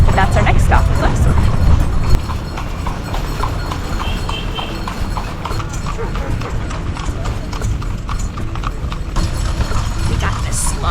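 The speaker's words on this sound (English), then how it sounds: "We got this slow horse." A slow horse pulls a carriage through the streets of Edfu, Egypt, its hooves clip-clopping in a steady rhythm over rumbling wheels and passing traffic.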